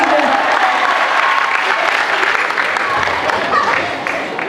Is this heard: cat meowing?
no